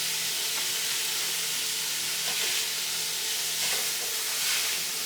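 Sausage sizzling and frying in a copper skillet, a steady close hiss with a few soft scraping stirs as the meat is broken up, no voices.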